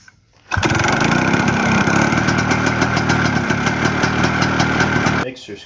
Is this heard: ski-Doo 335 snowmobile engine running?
yes